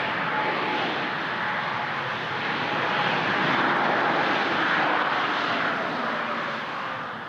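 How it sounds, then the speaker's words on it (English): Airliner landing at Toronto Pearson airport, a loud, continuous broadband roar of jet engines that swells and then fades slightly toward the end, with no voices. "Air Transat always butters their landings."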